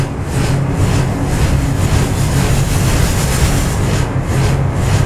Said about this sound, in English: This is my attempt at a tornado.